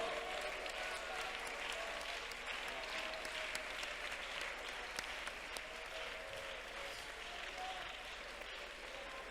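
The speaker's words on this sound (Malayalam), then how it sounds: "കൈയടിച്ച് ഉറക്കെ സ്തോത്രം പറ" A church congregation at a prayer centre claps in praise, a dense, steady wash of many hands that holds at an even level throughout, with faint voices mixed underneath.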